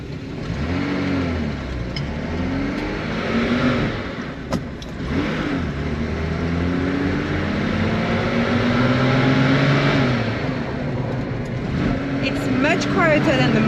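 Diesel engine of a big four-wheel-drive truck, heard from inside the cab: a steady, loud drone with shifting revs, and people talking over it throughout.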